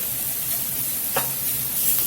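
Minced onion and browned sausage for stuffed bell peppers sizzling in a pan with a steady broad hiss, one brief stir or scrape partway through, close and fairly loud, no talking.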